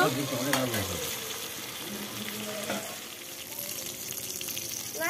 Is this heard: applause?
no